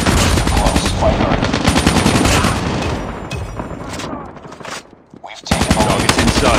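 Rapid automatic gunfire from the mobile shooter game Call of Duty Mobile, loud sustained bursts that briefly die down before another volley erupts, with game voice lines mixed in.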